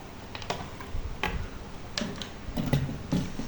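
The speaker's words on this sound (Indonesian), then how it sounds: "pokoknya dipasang sampai bunyi klik" A handful of sharp, separate clicks of a PC component latching into place, spaced irregularly over a few seconds against a soft background hiss.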